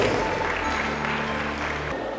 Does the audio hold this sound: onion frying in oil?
no